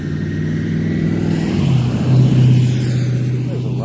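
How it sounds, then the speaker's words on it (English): Loud trucks pass along a lightly traveled road beside a building and alley, a steady engine rumble that swells slightly as they go by, near and continuous with no voices. "lot of loud ass trucks out here today for a road that's just really not hardly traveled"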